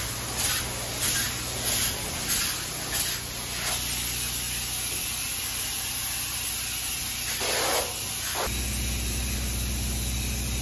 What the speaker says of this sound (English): we got this big truck that sprays spray foam all the way over to here